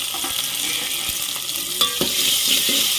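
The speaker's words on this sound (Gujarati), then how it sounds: "આ રીતના આપણે બધું મિક્સ કરી દેવાનું છે." Onions and tomatoes frying in hot oil while being stirred, a steady sizzle with scraping stir sounds and a few clinks of a utensil against the pan, close and moderately loud with no talking.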